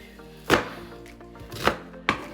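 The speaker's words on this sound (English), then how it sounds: "So I'll be cutting my onions and ginger, then I'll blend it together with the pepper." A knife cuts onions and ginger on a board for Ghanaian shito sauce, three distinct, close chopping thuds spaced irregularly over a quiet background, with no talking.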